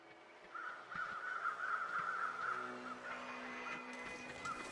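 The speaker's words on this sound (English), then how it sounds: "I think I just heard normal crows flying around or possibly around a carcass nearby" Crows in the snowy wilderness of the survival game The Long Dark give a run of rapid, raspy caws that then fade, faint and somewhat distant over a low wind ambience.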